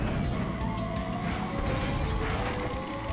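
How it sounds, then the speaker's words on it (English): A kart brake slide in the Crash Team Racing video game: a loud, continuous engine drone with scraping tire skid noise throughout, steady and close, with no talking. "I did a brake slide there instead of power slide"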